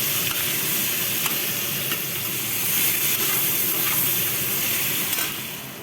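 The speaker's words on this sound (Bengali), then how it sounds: "পেঁয়াজটা ভাজা ভাজা হবে।" Onions fry in hot oil with a loud, continuous sizzle and hiss, a few sharper crackles rising above the steady noise.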